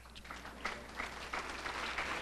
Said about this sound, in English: And he does need an applause